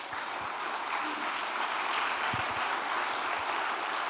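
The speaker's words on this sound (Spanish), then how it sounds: "Denle un aplauso al Señor." Church congregation applauding steadily during a Spanish-language service, a dense continuous clatter of many hands clapping together, loud and sustained with no pause throughout.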